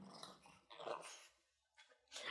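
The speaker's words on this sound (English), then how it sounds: "That's my dog Wristroll, aka Riz." Pet dog making soft growly, breathy vocal noises in short bursts separated by quiet gaps, close by and fairly faint, with no talking.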